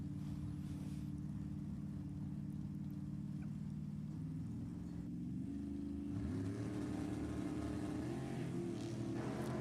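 Chevrolet Vega and Camaro drag cars at Sacramento Raceway, engines droning steadily at the line and then swelling louder as they rev, a thick continuous roar throughout with no talk.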